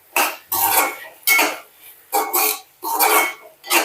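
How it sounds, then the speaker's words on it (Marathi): Spices and rice are stirred together in a pot for matar pulao, giving a series of distinct scraping, rattling strokes of a spoon against metal, each stroke separated by brief pauses. "व्यवस्थित मिक्स करायचं."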